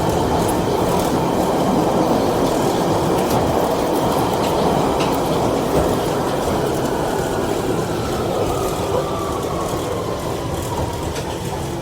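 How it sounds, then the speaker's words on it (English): A London Underground Central Line train runs through a tunnel toward Epping with a loud, continuous rumble, rattling wheels and a faint rising squeal near the end. "This is a Central Line train to Epping."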